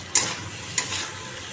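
Spice paste with cumin powder and green chilli frying in a pan for a fish curry: a steady close sizzle, broken by two quick scrapes of a spoon.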